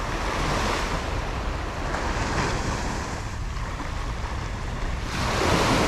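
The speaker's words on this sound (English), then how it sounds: "Of course, you got a heavy surf." Heavy ocean surf at very high tide on a gray day on the coast at Ban Chang, Rayong, Thailand: a loud, continuous roar of breaking waves with wind rush, swelling again near the end, no voices.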